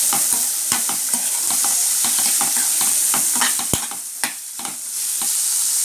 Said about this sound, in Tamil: தக்காளி நல்லா வதக்க விட்டுடலாம்